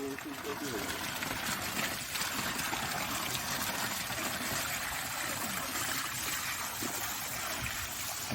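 Water gushing hard from the outlet pipe of a 5 HP solar pump, a loud continuous roaring splash that fills the whole clip, with people talking over it.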